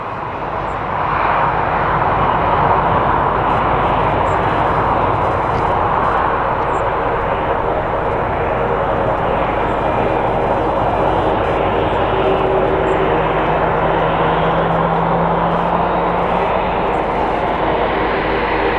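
A loud, steady aircraft engine roar fills the whole stretch as an airliner moves near the mound at Madrid Barajas Airport, close and sustained with a faint shifting drone underneath.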